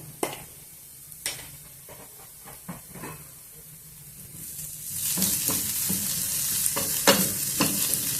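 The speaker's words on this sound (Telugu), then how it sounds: "ఇంకా కొద్దిసేపు మూత ముయ్యకోకుండా వేయించుకున్నాము." Radish chutney frying in a pan with turmeric, uncovered, gives a steady sizzle with scattered stirring scrapes and clicks that grows louder and hissier toward the end.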